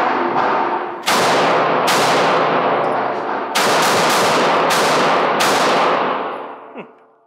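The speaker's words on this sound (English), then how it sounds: "I'm gonna shoot 6 rounds through it or so" Springfield Echelon pistol fired in a rapid string of about six loud, close shots, each sharp crack followed by a ringing tail that overlaps the next, ending with a brief metallic clink.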